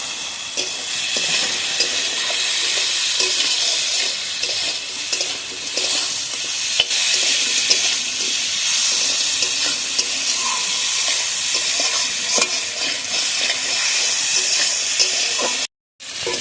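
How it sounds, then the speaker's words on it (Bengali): Fried crab stir-fried in curry masala in a pan makes a loud, continuous hissing sizzle, with faint stirring scrapes and clicks scattered through it and a brief cutout near the end, with no talking. "ক্যাংড়াটা দিয়ে ভালোভাবে কষিয়ে নেবো"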